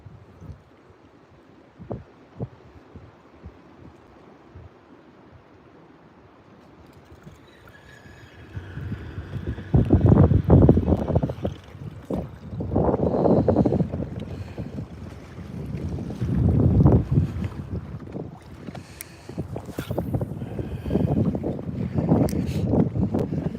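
Strong wind gusting outdoors on the water while bass fishing, building from a faint rumble to loud buffeting microphone noise that surges and falls in waves, with some light knocking early on.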